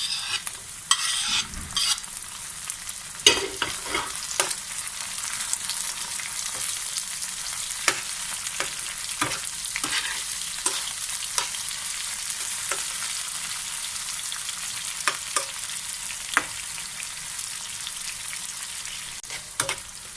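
Tomato sizzles on a tawa with liver masala for kaleji, under a steady frying hiss, while a spatula stirs it in repeated sharp scrapes and taps spread across the whole stretch.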